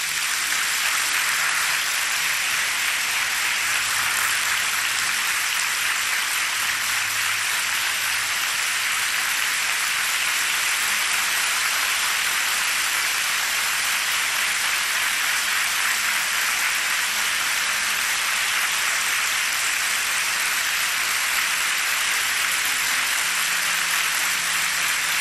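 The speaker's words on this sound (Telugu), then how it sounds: "నమ్మిన వాళ్ళు చప్పట్లు కొట్టండి చూద్దాం" A church congregation at a live prayer service claps together, producing a dense, unbroken wash of clapping that stays loud and even for the whole stretch.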